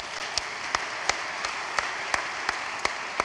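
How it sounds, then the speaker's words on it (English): A church congregation applauds with a steady wash of clapping, and a few sharper claps stand out at a regular pulse. "Give your hands a clap."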